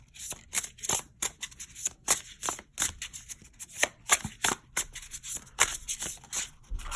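Tarot cards being shuffled by hand, close and crisp, a rapid irregular series of riffling flicks and slaps that continues throughout.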